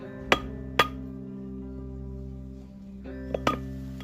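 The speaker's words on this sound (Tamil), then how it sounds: "இதை அப்படியே கட் பண்ணி எடுத்துக்கிறோம்." Two sharp wooden knocks followed later by a few more strikes, heard over a steady low hum, while a notch is being cut into a wooden door frame.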